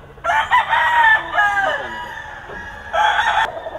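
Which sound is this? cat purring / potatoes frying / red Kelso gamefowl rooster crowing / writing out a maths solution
red Kelso gamefowl rooster crowing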